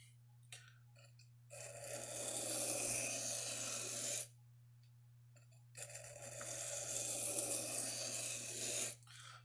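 A knife blade is drawn across a sharpening stone while its bevel is reprofiled. Two long, loud, close rasping strokes come with a quiet pause between them, over a low steady hum and no talking.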